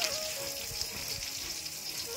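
Eggplant slices frying in oil on a clay stove, a steady close crackling sizzle that holds without a break and no voices.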